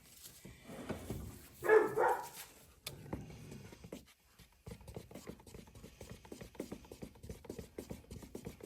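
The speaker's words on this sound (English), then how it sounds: "we didn't have dogs barking or howling in the background" Dogs bark loudly in a short burst early on, then fall quiet, leaving soft pattering and rustling noises.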